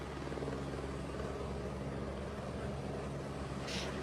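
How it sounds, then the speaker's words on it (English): Helicopter hovering over a yacht during a Navy SEAL raid, a steady close rotor-and-engine drone that holds at even loudness throughout with no voices over it. "What I'm impressed with is the precision of the helicopter."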